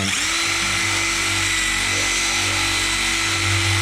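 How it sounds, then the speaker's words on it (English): A power drill enlarging an existing hole during a Chevrolet Suburban or Tahoe wireless charger install whines steadily at high speed without pause, close by and loud, with a continuous motor hum underneath. "now I don't have the right size drill bit here with me, so I'm just opening this hole up"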